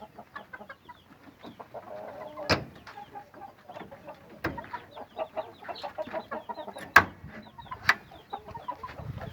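Indian Aseel roosters clucking in a yard, with a steady run of short clucks and chirps, a few louder sharp calls standing out, close by and without talk.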